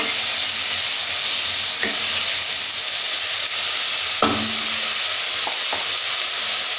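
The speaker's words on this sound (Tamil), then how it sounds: "மஷ்ரூம் வந்து கொஞ்சம் வதங்கணும்." Mushrooms sautéing in a pan for fried rice give off a steady, close sizzle and hiss, with a few soft scrapes and taps of a stirring spoon against the pan.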